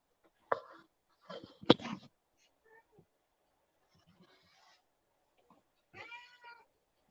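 Indoor cat giving a few scattered meows and rough, scratchy bursts, fairly close but not loud, ending with one clearer drawn-out meow.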